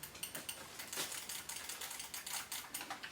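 A small joystick-style D-pad on a Hyperkin Retron 5 retro game controller is pressed in each direction, giving a quick run of sharp plastic clicks, close and distinct, with no speech.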